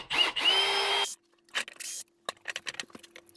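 Power driver backing a T27 Torx screw out of a Stihl MS-290 FarmBoss chainsaw, a loud whirring burst of about a second followed by shorter spurts of whirring and a few small clicks and rattles.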